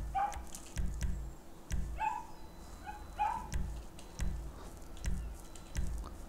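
Dog barking in GTA 5, a run of repeated short barks and yips at a steady rhythm, fairly close and clear, with no talk.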